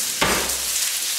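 Sliced onions hitting hot olive oil in a pan, a sudden loud sizzle that settles into a steady frying hiss.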